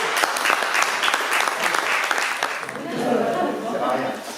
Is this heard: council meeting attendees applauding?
yes